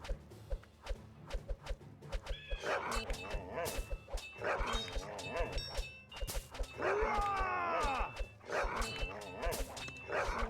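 Dogs barking in the Kingdom Rush tower defense game, several sharp repeated barks and yips in quick bursts over game effects, moderately loud.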